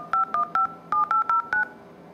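An iPhone 4s running the iOS 7 beta plays touch-tone dialing beeps as a number is called. Eight short, clear electronic tones come in a quick, slightly uneven sequence, near and distinct, with no talking.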